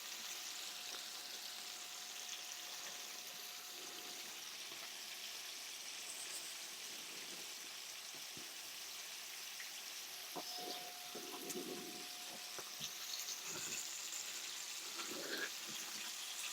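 Frog legs deep fry in hot oil at 375 degrees, a continuous hissing, bubbling sizzle with faint scattered crackles, heard close and alone.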